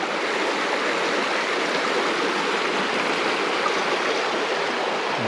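A creek flows steadily beside a rustic campground in British Columbia, a close, continuous broadband rush of water with no voices.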